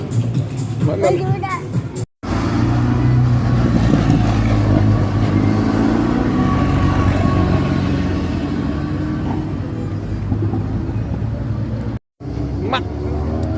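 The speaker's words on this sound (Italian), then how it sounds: "Sono rientrate alcune macchine in pista adesso per le qualifiche." Race cars circulating on the Imola circuit during qualifying at an ACI Racing Weekend, a loud continuous engine roar rising and falling as cars pass, heard up close with two brief dropouts.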